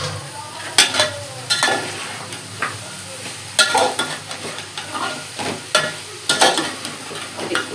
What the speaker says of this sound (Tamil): எண்ணெயில் வதக்கலாம்.